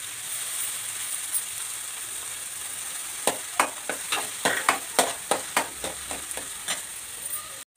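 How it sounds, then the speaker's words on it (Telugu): Tomato pieces frying in hot oil with fish in a home kitchen, a steady sizzle underneath a run of sharp, regular scraping knocks from a spatula stirring the pan, ending abruptly. "టమాటో కూడా బాగా వేగింది కదండి"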